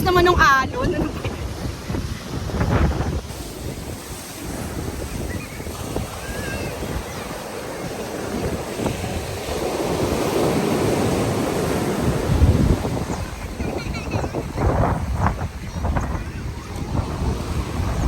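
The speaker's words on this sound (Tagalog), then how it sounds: "Lakas naman ng alon." Strong ocean waves at Patar Beach, Pangasinan, rolling surf crashing and washing in repeated surges under heavy wind buffeting the microphone, with brief exclaiming voices at the start.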